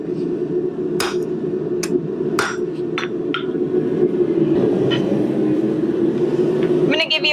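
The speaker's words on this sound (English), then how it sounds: "we are glancing blows on the edge of the anvil on all 4 quarters" Steel is forged into a corkscrew with glancing hammer blows on the edge of an anvil. Several sharp, ringing strikes come at an uneven pace over a constant low roar, with a quick clatter at the end.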